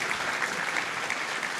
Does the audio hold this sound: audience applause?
yes